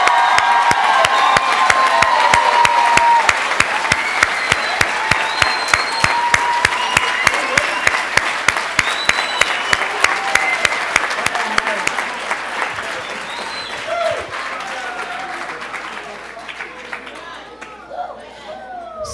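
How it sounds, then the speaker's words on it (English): A large audience at a 2018 high school graduation ceremony gives loud, sustained applause that fades gradually near the end, with scattered cheers mixed in. "give our graduates one more big whooping round of applause"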